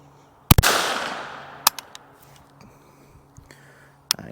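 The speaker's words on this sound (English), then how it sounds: "Let's take a couple of shots and see what we can do here." Two close rifle shots from a Glenfield Model 75 firing 40-grain Aguila Interceptor hollow points, a sharp loud crack with a long decaying tail, then a second crack, light mechanical clicks and a final sharp report.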